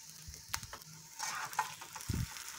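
Ingredients for pipián rojo sauce fry in a pan, with soft sizzling, scraping and stirring sounds and a few dull knocks of a utensil, quiet and close.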